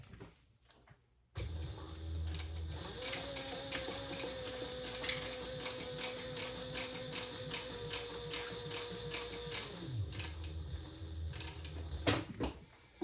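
Sewing machine top stitching a belt bag through thick layers, running in a steady continuous whir with rapid regular needle clicks for several seconds, close and fairly quiet, starting and stopping at each end.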